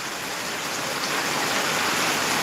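Heavy rain pours down steadily, a dense even hiss of drops hitting surfaces, with no voices.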